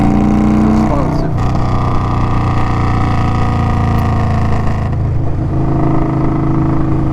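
An Indian Scout Bobber motorcycle engine runs loud and close with a steady throbbing drone, its pitch shifting as the throttle is worked, a voice speaking faintly underneath.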